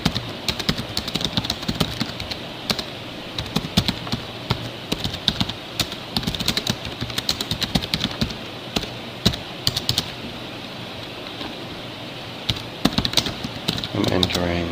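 Keys tapped on a computer keyboard while entering text into a rich text editor, irregular clicking bursts running throughout under steady background hiss with occasional speech.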